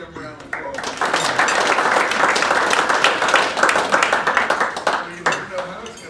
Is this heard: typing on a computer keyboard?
no